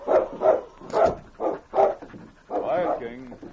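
A white husky bitch barks repeatedly in quick, close, loud bursts, then gives a whimpering, yelping whine, with no speech over it.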